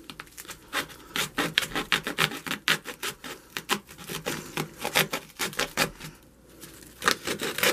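Foam board for a damaged model building being shaved with a blade, a rapid series of loud, close rasping scrapes repeating in quick strokes throughout with only brief pauses, no voices.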